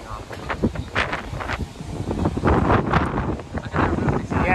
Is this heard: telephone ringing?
no